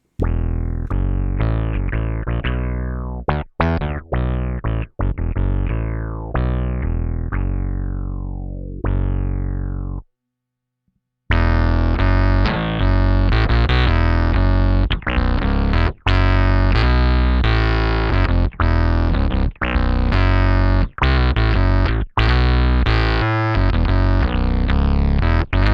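Bass guitar notes run through octave pedals, a sweeping envelope filter and a gritty overdrive placed before them, creating a synth-like bass, played alone in loud phrases with a brief pause midway.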